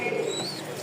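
Cooing from pigeons kept for sale, racing and Rajshahi giribaz breeds with squabs, a soft low murmur with a brief higher chirp, close and steady with no talking.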